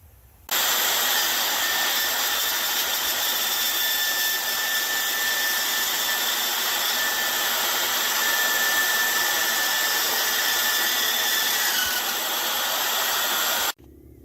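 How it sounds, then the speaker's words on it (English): A power drill whines steadily and continuously for over ten seconds, screwing scrap metal pieces down onto the roof of a homemade Cerakote oven, with a bright, close mechanical buzz and no talking. "we're going to screw these pieces down on top of it"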